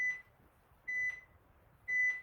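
An exercise timer gives three evenly spaced electronic beeps, each a short steady tone about a second apart, clear and close over a quiet room.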